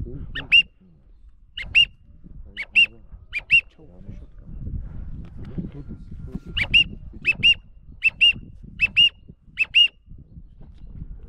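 A series of sharp, high whistle blasts during a duck hunt, a few spaced bursts early then a quicker run of six or seven later, ringing out over a low rumbling background.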